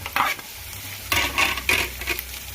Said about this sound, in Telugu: ఇలా వేసుకొని బాగా ఫ్రై చేసుకుందాం.